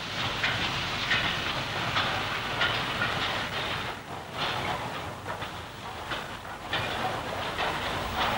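County Donegal Railway steam locomotive hauling a goods train, with a steady loud chuffing hiss and rumbling wagon noise continuing throughout.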